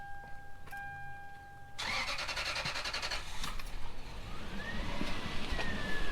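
A Lexus LX470 engine cranks and catches after a fuel filter change, starting with a sudden loud burst partway through and then settling into a steady, close idle with a faint whine, and no talking.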